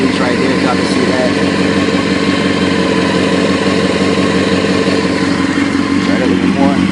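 Motorcycle engine idling with a low, grumbly, steady tone, close and loud, a continuous even rumble with faint mechanical clatter and no speech.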